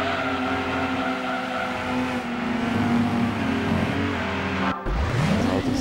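Aston Martin DB7 racing in Gran Turismo 2, its engine droning loud and steady as it revs through gears, a brief cut near the end followed by a rising rev.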